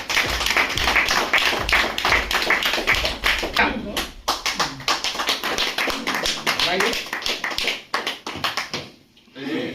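Vigorous audience applause at a workers' gathering, dense rhythmic clapping from many hands close by, loud and sustained with brief dips and a few voices mixed in, fading near the end.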